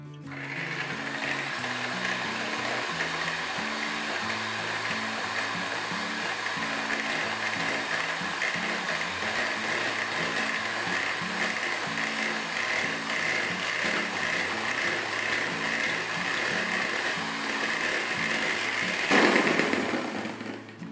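An electric mixer whips egg whites with lemon juice for a fluffy Japanese yogurt cake: a steady, close mechanical whir with a rattling edge that runs unbroken for about twenty seconds and swells slightly near the end.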